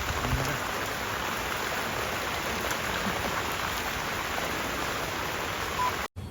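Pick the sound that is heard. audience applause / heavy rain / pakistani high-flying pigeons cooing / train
heavy rain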